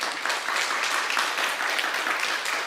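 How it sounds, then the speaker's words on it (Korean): A church congregation applauding steadily during a Sunday service, a dense wash of many hands clapping at even loudness throughout, with no talking. "축복의 박수를 한번 보내드리겠습니다."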